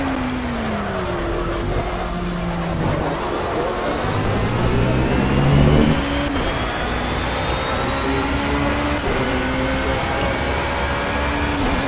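A race car engine in Project CARS drones and revs through rising and falling gear pitches for several seconds, with someone talking over the steady engine noise.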